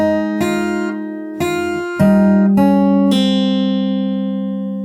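Fingerstyle acoustic guitar plays a slow passage of a song, with six distinct plucked note onsets about half a second apart, the last chord left ringing and fading alone, close and clear.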